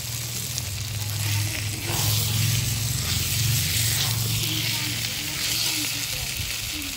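Pointed gourd and shrimp sizzle steadily in hot spiced oil, a continuous close frying hiss with faint stirring, no voices.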